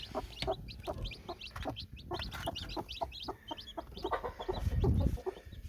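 A bantam hen clucks repeatedly in quick, rhythmic calls to her newly hatched chicks, close by, with faint peeping and a brief low rustle near the end.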